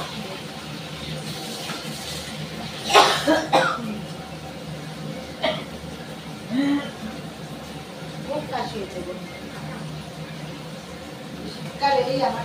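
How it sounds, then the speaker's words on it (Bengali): A person coughs in a home kitchen while cooking a poppy-seed (posto) dish: one strong burst of coughing early on, then a few smaller throat sounds scattered over quiet background kitchen noise. "শীতকালেই আমার কাশিটা হয় প্রচুর।"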